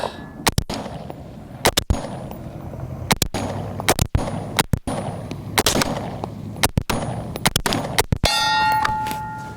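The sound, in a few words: shots ringing a steel target at 70 yards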